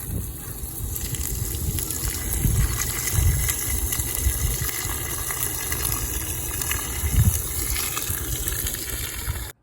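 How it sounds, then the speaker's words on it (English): Steady rush of water flowing and gushing through an RV Guard water softener during a flush, a continuous broadband hiss with low churning surges, close and fairly loud. "So we're going to go ahead and flush it for 4 to 6 minutes."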